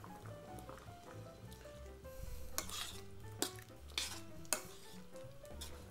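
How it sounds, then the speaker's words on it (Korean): Perilla seed rice cake soup with ground perilla seeds bubbling in a pot, a steady simmering hiss with occasional clinks of a spoon or utensil against the pot, close and without talk. "요렇게 1분만 끓이시면 끝입니다."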